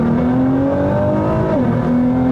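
Engine of a 2024 Nissan GT-R pulling steadily under acceleration, its pitch climbing, then dipping briefly at a gear change before rising again, loud and close with no talk.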